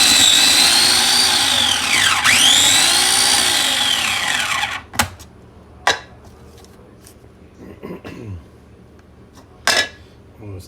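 Pesto ingredients, including pine nuts, are ground by a loud, close motor whine that runs steadily for about five seconds and then stops, followed by a few scattered clicks and taps.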